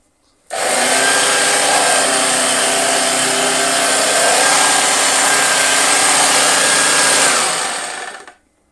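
A Dirt Devil Handy Zip handheld vacuum cleaner runs badly, a loud, harsh, steady motor whine with rough buzzing that starts abruptly, holds for about seven seconds and then winds down, with no talking.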